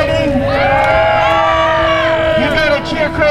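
A crowd at a 2014 fight event cheers and shouts for a fighter, a loud sustained roar with whoops rising over it, some speech mixed in.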